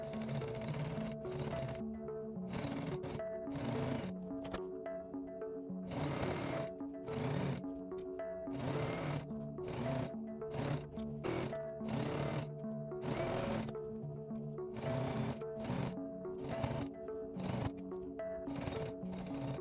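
A sewing machine stitches the waistband onto a fork-pleated skirt in repeated short bursts with brief pauses between them. The mechanical stitching is close and steady, with no talking.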